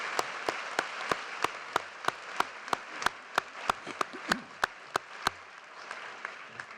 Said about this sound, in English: Please join me in a round of applause for our CNU faculty.